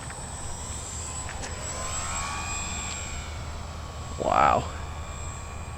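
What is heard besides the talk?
Dynam P-51 Mustang RC model plane flying low pass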